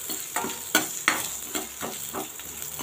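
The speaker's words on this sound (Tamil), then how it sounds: "இப்போ கட் பண்ணி வச்சுருக்க ஆனியன் சேர்த்துக்கலாங்க. 1 செகண்ட் நல்லா வதக்கிக்கலாம்." Chopped onion sautéing in hot oil in a pan, a steady sizzle broken by rhythmic spatula strokes scraping through it, close and moderately loud.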